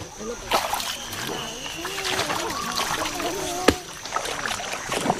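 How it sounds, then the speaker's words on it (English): Women fishing a village river near Losi by damming it and bailing a section dry make steady splashing and sloshing water, with voices in the background. "They fish the way their ancestors fished for hundreds of years, building dams and bailing a portion of the river dry."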